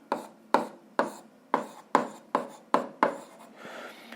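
Chalk taps and scrapes on a board in about eight sharp, evenly spaced strokes during an algebra lesson, close and distinct with no talk.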